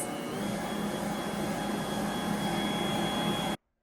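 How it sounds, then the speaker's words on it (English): A Bosch stand mixer kneads bread dough for cinnamon swirl bread at speed 2, giving a steady, loud motor whir and churning that runs unbroken for several seconds, then cuts off abruptly. "I am using my Bosch mixer today"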